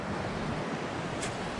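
Steady broadband rush of water flowing at a trail stream crossing, continuous and fairly close, with no talking over it.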